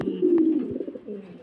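Pigeons coo at a pigeon farm, a low soft burbling call held steady across the moment, close and moderately loud, with a few faint chirps in the background.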